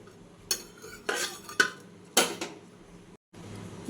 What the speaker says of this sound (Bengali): ঢাকাটা খুলে দেখি আমার আম আর ডাল।